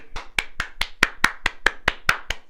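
Ten sharp hand claps in a steady, evenly spaced rhythm, close and fairly loud, with nothing else heard between them.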